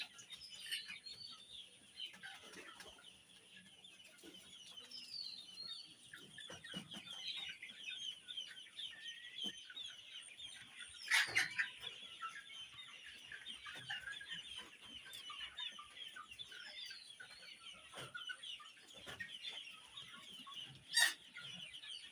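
Sonali chickens on a small farm squabbling and clucking, faint scattered clucks and squawks over quiet background hiss, with a couple of louder sharp cries, no talking.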